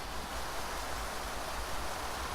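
A waterfall in the video game Beyond Eyes rushes as a soft, steady broadband wash of falling water, faint and continuous with no other sounds.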